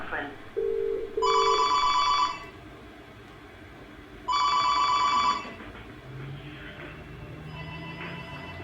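A telephone rings for a conference call in repeated bursts, two long electronic trills separated by a pause, with a brief beep beforehand and faint tones trailing after; no speech.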